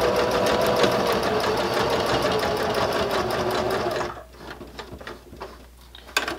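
A sewing machine stitches a bag handle cover with loud, fast, continuous needle clatter for about four seconds, then stops, leaving faint handling taps close by.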